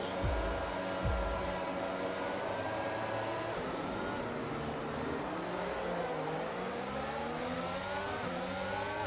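Several F1 22 race cars accelerate together off the starting grid in the video game, a loud, continuous layered engine roar with pitch sweeping up and shifting as they rev, with no voices.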